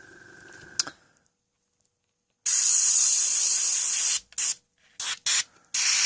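Spray can misting paint onto a model, a loud close hiss lasting well over a second, then several short bursts, after a small click and a silent gap.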